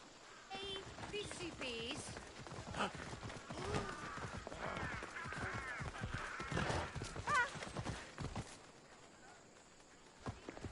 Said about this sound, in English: my horse just ran alongside me